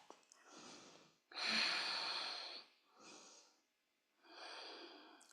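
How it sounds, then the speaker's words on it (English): Slow, deep breaths during a calm yoga session, four audible inhales and exhales with pauses between them. The second breath is the loudest and longest, and the breathing is close and soft with no talking. "Just breathe in. And breathe out. Take another deep inhale."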